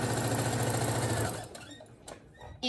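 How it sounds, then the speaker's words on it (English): A Brother SE1900 sewing machine stitches a straight seam, its steady rapid needle chatter running loud and continuous for over a second before stopping, followed by quieter handling noises and a sharp burst at the end. "I'm going to start sewing right now"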